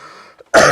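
A single sharp cough or throat clear bursts out loudly during a church sermon after a brief near-silence, close to the listener.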